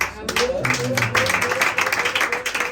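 A church congregation at a New Year's Eve service claps and cheers, a steady burst of applause that lasts throughout, with voices talking over it.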